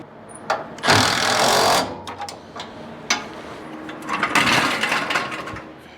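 Bursts of a pneumatic impact wrench rattle loudly in two main runs, separated by short clanks and quieter gaps, tightening the lower bolts during a motorhome frame swap.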